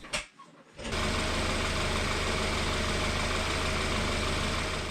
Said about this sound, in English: The engine sounds very good